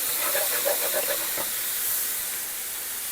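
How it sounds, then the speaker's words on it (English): Bacon, onion, garlic and spices simmer in a pan with a steady broad hiss and soft sizzle, close and even, a few faint clicks early on, no voices. "Let the spices kind of simmer with the bacon and the onion and the garlic."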